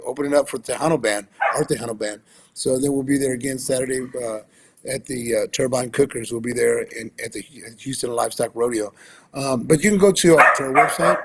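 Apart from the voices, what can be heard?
dogs barking, including a puppy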